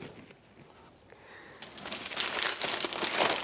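Soft crinkling and rustling of protective packaging being pulled off a Ninja Flexdrawer air fryer, quiet at first and growing busier and louder toward the end.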